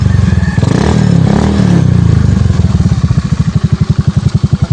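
A carbureted 16-year-old Honda Beat scooter engine runs close by, revving briefly then dropping to a lumpy, chugging idle with a steady pulsing beat.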